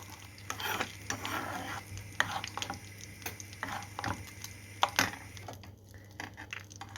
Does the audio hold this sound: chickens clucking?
no